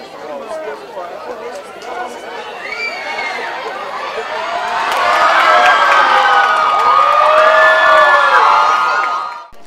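Spectators at an opening American football game in Brazil between Porto Velho Miners and Cacoal Dogs cheer and chatter loudly, the crowd noise swelling louder midway and staying dense, with shouting voices throughout.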